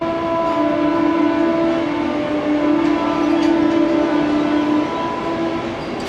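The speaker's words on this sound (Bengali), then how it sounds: "আর এদিকে এই ট্রেনও ছেড়ে দিয়েছে।" A train sits near the platform at an Indian railway station, a loud, steady rumble with a sustained horn-like tone held for several seconds before easing off.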